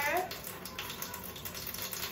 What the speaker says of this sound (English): So this running water will help us to rinse